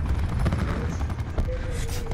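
Chopper gunner killstreak fire in Call of Duty: Black Ops 4 on the Icebreaker map, a dense rattle of automatic gunfire bursts over a low rotor rumble, loud and continuous, followed by a brief rising whine.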